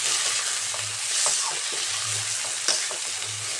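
Taro stolons seasoned with salt and turmeric fry in a pan with a constant loud hiss, while occasional stirring strokes scrape through the sizzle close by.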